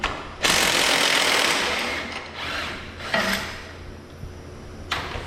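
Tools working loose the 3/4 inch bolts and nuts on a radius rod, giving loud, dense metallic ratcheting bursts that start abruptly, fade, then return in several shorter bouts.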